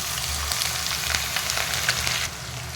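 Cumin, ginger and green chili paste frying in a pan, a loud, dense hissing sizzle with crackling spits and light stirring scrapes, close and continuous before easing slightly near the end.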